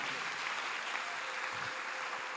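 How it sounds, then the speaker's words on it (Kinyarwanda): Applause fills a church during a worship service, a steady, dense clapping from a large congregation that continues without a break throughout. "Amashyi menshi ku Mana yacu."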